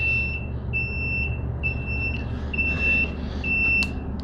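An electric scooter's indicators beep in a steady repeating pattern, high-pitched pulses about every half second, clearly audible over a low outdoor rumble, with no talking.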